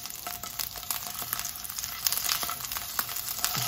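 Linguiça sausage frying in a pan, turned to cook its other side before a cachaça flambé; a steady close crackle and sizzle with small pops runs throughout, with no voices over it.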